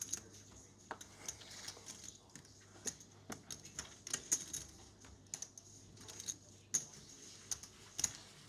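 Someone types on a computer keyboard at a poker final table, with quiet, irregular clusters of key clicks close by in an otherwise hushed room.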